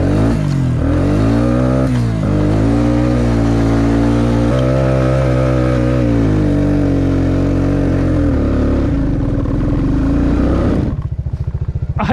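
UTV engine revving hard in super low range with the differential locked, a loud continuous close drone with rising and falling pitch that cuts off sharply near the end.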